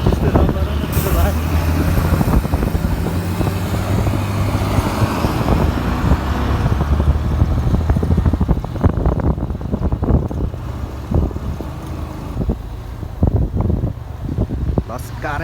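Cars and buses pass on a Nepali highway heard from a moving motorbike, their engine roar swelling under heavy wind buffeting on the microphone, with a rider talking over the noise.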